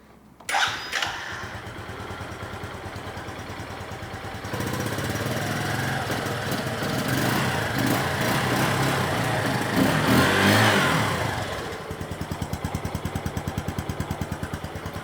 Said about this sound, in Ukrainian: Давайте заведемо мотоцикл і послухаємо, як він працює.